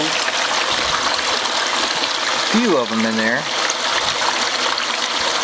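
Steady rushing and trickling water runs through a gold sluice at a prospecting site, loud and continuous, while someone speaks briefly over it.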